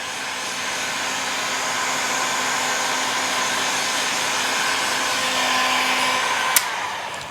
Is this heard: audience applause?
no